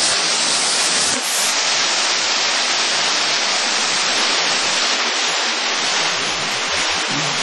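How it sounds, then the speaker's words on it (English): A waterfall at the end of a hike on Mt. Timpanogos roars with a loud, unbroken broadband rush of falling water, close and steady throughout. "Nice waterfall at the end of our hike."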